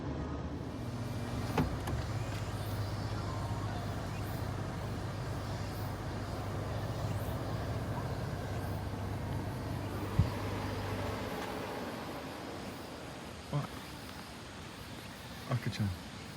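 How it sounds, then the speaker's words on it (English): A car engine idles with the air conditioner running, a low, steady hum under a person talking that cuts out partway through, leaving quieter background noise. "Let me start the car right now. Get the air conditioner going."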